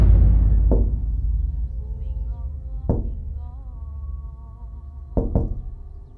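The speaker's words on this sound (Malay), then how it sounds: "Zati terdengar bunyi tingkap diketuk." Knocks on a window land in short sharp bursts: a single rap, another about two seconds later, then a quick double knock, each close and distinct over a faint low background with no talk.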